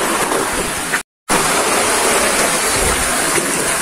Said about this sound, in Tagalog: walang kasing saya at kasing ingay ng mga alon.